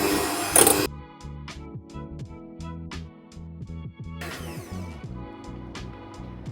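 A whisk clicks rapidly against a bowl while whipping egg whites with oil for a lemon angel food cake, making a steady run of close tapping strokes with a brief louder scrape at the start.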